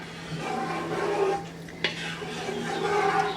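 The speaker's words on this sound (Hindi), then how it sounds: "और अब आपने इसमें आहिस्ता आहिस्ता जो है चमचा हिलाते चले जाना है" A spoon is slowly stirred through curdling milk in a pot over low to medium flame while making mozzarella, giving soft swishing and a few light metal clinks, close up with no speech.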